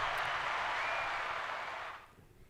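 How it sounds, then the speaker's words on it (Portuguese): Brief applause for a podcast guest, a lawyer and former mayor, with a dense burst of clapping that holds steady and then fades out after about two seconds. "Uma salva de palmas para ele."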